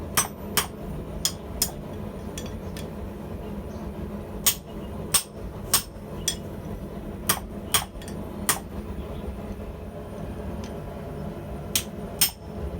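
Hammer blows forging small scroll ends on hot metal at an anvil, bright ringing strikes in irregular bursts of two to four over a low steady hum, close and loud with no talking.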